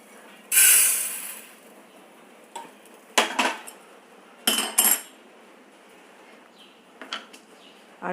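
Metal utensils clink and scrape against a pan and plate as a lightly golden-brown roasted ingredient for festival seedai is moved across. Several sharp, bright bursts come close up, separated by quiet pauses.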